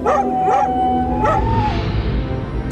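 A dog howls in a drawn-out, wavering tone mixed with short yips, heard over a noisy background that continues after the howl fades.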